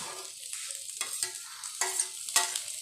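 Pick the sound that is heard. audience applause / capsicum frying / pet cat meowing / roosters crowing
capsicum frying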